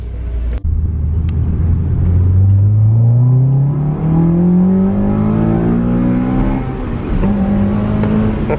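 Dyno-tuned Honda Accord Euro CL9 accelerating hard on a drive, its engine note climbing steadily through the revs, loud and close from inside the car, with a brief drop at a gear change before rising again.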